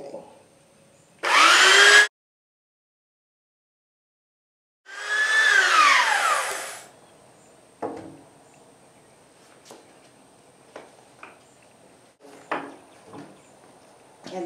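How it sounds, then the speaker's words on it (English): A power sander works a slightly warped wooden board outdoors, whining loudly in two bursts of a second and about two seconds, followed by quieter scattered knocks and handling sounds. "Okay, on with the sanding."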